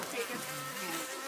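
Honeybees being moved to a new bee yard buzz loudly and continuously up close, a dense droning hum with wavering pitch and no voices.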